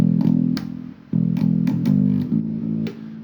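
Plucked guitar notes play a short rhythmic phrase from a riff, each attack followed by a smooth hammer-on second note without a fresh pick, close and clear.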